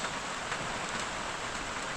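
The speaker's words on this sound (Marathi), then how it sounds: "मनाला गारवा देणारा पाऊस." Steady rain pours down in a dense, even hiss, close and continuous, with no voices.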